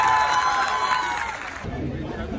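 A crowd at a live devotional and folk song performance in Bhopal cheers and claps in a short burst of mixed crowd noise, following a fading musical tone.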